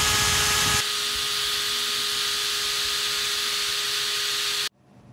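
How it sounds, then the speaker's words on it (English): A power drill bores a small 3 mm pilot hole for a lockable gate latch, a steady high whirring hiss close by that runs for several seconds and then cuts off abruptly. "you start drilling with a small pilot hole."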